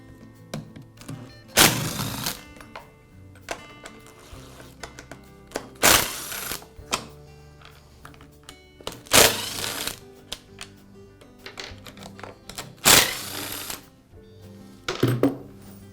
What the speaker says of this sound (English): I'll begin by removing the starter from the saw.